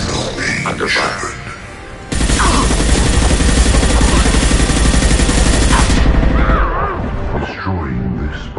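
Sustained automatic gunfire during a Mass Effect battle, a dense roar of continuous shooting in the middle, with voices and combat chatter before and after.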